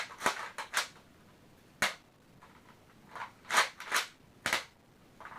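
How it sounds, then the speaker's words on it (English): A Nerf Roughcut blaster fires on a half trigger pull, giving a string of sharp, close plastic pops and clacks in irregular bursts, some doubled, with quieter mechanical clicks between them. "I don't know if you heard it that second time, it went ba-doom"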